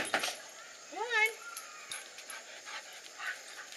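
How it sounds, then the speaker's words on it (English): An excited dog whimpers and yips in a rising, wavering burst near the start, with a few shorter whines after, close by amid some handling noise. "Are you a crazy dog?"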